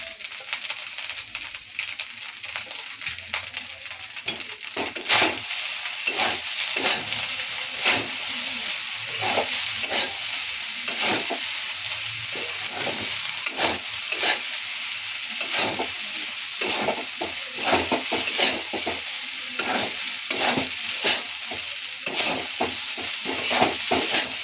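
Leftover rice fries in a pan with potatoes and flat beans as a utensil stirs and scrapes, a constant loud sizzle broken by rapid irregular clinks and scrapes, close up with no talking.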